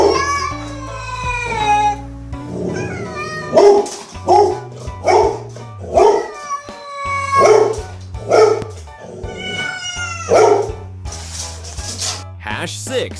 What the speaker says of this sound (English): There's something or someone on the roof and the dog barks to scare it off. But hold up, is that the cat barking too?